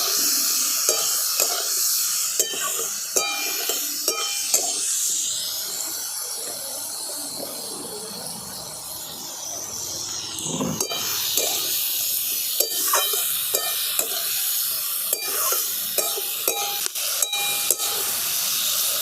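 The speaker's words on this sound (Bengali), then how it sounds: "সব কিছু একসঙ্গে আমি খুব ভালো করে ভাজা ভাজা করে নিচ্ছি" Potato and ridge gourd frying together with salt, turmeric and green chillies, a steady close hiss and sizzle with repeated scraping stirs throughout and no talk.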